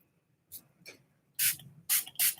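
A spray bottle aimed at a face mask gives a few short hissing spritzes: two faint quick sprays, then three louder bursts close by.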